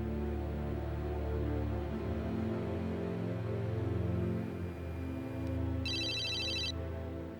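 A telephone gives one short electronic ring burst near the end, fairly clear, over a low sustained musical drone.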